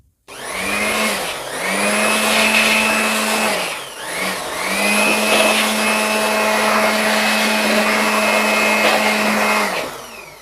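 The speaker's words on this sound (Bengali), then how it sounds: "তো আমরা এই এমপিফায়ারটিতে এখন ব্লোয়ার মেশিন দিয়ে ময়লাগুলো সুন্দর করে পরিষ্কার করব" A blower machine clears dust from an MCA 516 Sweton professional power amplifier under repair, a loud, close, steady whine running in two long bursts with a brief dip in between.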